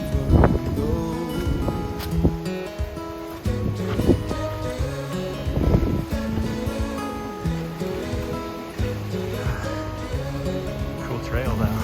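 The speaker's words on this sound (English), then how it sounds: "Man, it's loud. Ocean's just ripping." Loud ocean surf and strong wind roar on Staniel Cay in the Exumas during a windstorm, heard along a trail with rustling and footsteps, and someone talking over it.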